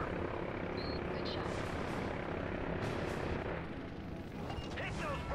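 Helicopters in the Call of Duty: Modern Warfare 3 combat game, a steady loud rotor roar mixed with bursts of gunfire and distant battle noise, continuous throughout.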